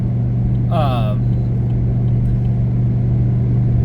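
A truck engine pulling up a mountain grade drones as a steady, loud low rumble throughout, with a brief high voice-like sound breaking in early on.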